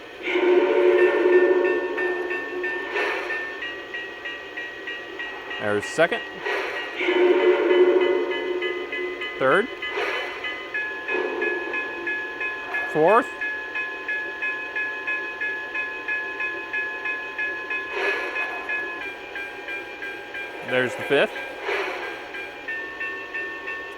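A Lionel CSA-2 brass hybrid Challenger model locomotive bell clangs repeatedly in bursts, with someone talking over it and counting between rings, steady engine hum underneath.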